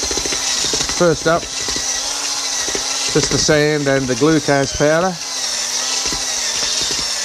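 A power mixer blends sand and glucose powder for a CO2 silicate core used in casting a piston for a 1910 Brush car. Its steady mechanical whir runs close and continuous beneath a man's speech.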